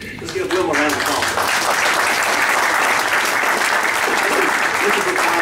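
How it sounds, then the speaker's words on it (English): A meeting audience at a party gathering breaks into sustained applause, dense and steady clapping from many hands throughout, loud and close, with a brief quieter start before the full round swells. "Let's give Wilma a round of applause."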